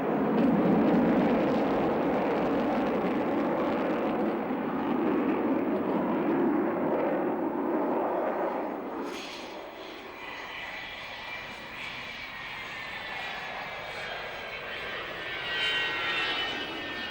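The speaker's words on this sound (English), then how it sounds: "It was the world's first four-jet Delta bomber." A British four-jet delta-wing bomber roars overhead, a loud broad rumble that fades after several seconds into a thinner, distant whine with a high tonal hiss.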